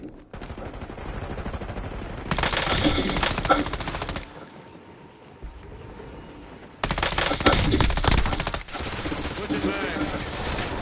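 Video game combat with bursts of machine gun fire: two long, loud automatic volleys rattle through steady background battle noise, separated by a quieter gap.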